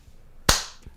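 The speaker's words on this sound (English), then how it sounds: "Can we do a quick round of claps?" A single sharp hand clap, close and crisp, with a short ringing decay followed by a fainter soft knock shortly after in a quiet room.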